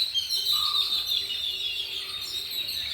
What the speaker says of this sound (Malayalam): അവിടെ എപ്പോഴും ഈ കിളികൾ വരും. ഭയങ്കര സൗണ്ടാണ് ഈ കിളികൾക്ക്.